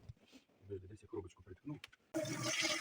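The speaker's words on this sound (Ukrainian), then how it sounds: "І заливаємо воду і зверху над банками" A person speaks briefly, then water suddenly gushes loudly and steadily, pouring close by into an autoclave over jars of canned meat.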